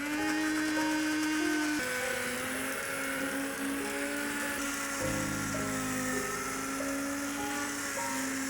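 A hand blender grinds soft cooked red beans for red bean porridge with a steady, droning motor whine whose pitch shifts slightly as it works through the thick mash, running continuously and fairly close.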